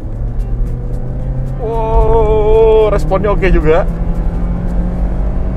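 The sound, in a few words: Honda Civic FD2 K20 engine accelerating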